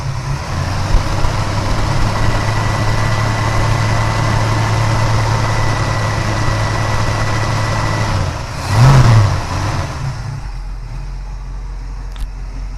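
A 1969 Pontiac Firebird V8 idles steadily and loudly up close, with one brief blip of revs near the end before settling back to a rumbling idle; no talking.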